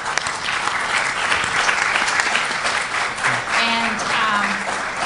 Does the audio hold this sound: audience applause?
yes